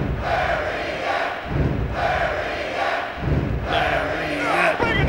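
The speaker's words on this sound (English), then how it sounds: "This crowd is pumped up. They are jacked." A wrestling video game crowd chants and cheers in a loud rhythmic roar, surging in repeated waves with dull thuds underneath.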